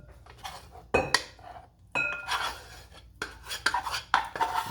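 Spoon and utensils scrape and clink against a bowl as ready couscous is added for a grilled chicken couscous salad, with several sharp, close knocks and rasping scrapes in uneven bursts.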